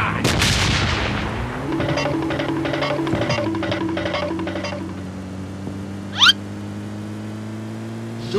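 A sharp gunshot from the mobile shooter game PUBG Lite cracks at the start, followed by fading ringing tones and a faint later click.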